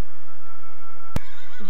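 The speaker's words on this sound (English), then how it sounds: "This is a horse." A horse gives one short, loud whinny at close range, with no voices around it.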